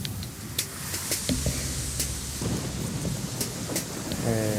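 Heavy rain in a Metal Gear Solid 2 scene, a steady hiss of downpour with scattered sharp drops and clicks spread across the whole stretch, ending with a brief tonal buzz.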